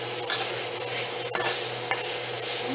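Beef for a beef and broccoli stir fry sizzles in a pan on a stovetop, a steady close hiss with occasional stirring scrapes and clinks, and no one talking.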